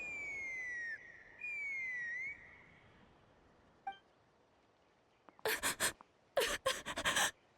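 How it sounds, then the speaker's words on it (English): Sharp whistling in the video game Genshin Impact: two clear, high whistle tones rise and fall in turn, followed by a brief quiet tick and a few bright, clinking bursts. "There's a sharp whistling in my ear."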